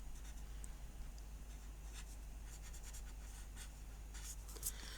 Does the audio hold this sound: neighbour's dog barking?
no